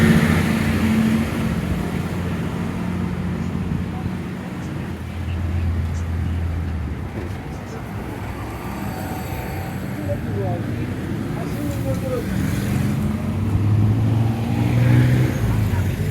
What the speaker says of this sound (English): Watching these guys drive at night is maniacal.